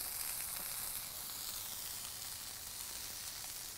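Lamb burger patty sizzling on a flat top grill, a steady close hiss of frying with no voices.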